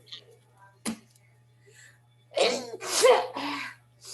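A single loud, close sneeze bursts out after a brief quiet stretch, preceded by a faint click and a soft intake of breath.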